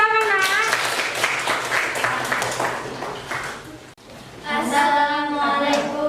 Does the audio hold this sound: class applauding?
yes